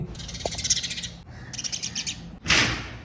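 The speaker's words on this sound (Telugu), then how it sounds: "డైలీ చిన్న చిన్న పక్షులు వచ్చేసి early morning six to six thirty లోపల నన్ను అయితే లేపేస్తాయి" Small birds chirp in the early morning, bright repeated tweets in two bursts followed by a louder, closer call near the end, heard alone without talk.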